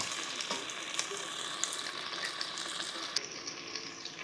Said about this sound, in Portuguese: Agora é só misturar e adicionar 1 xícara de água.